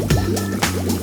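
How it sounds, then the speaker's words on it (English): Hot water from a cylinder tank running out of a tap into a bathtub, a close, steady liquid stream with bubbly dripping and gurgling pulses, no voices. "it lets water from the cylinder tank travel along the pipe, into the tap and out into your bathtub."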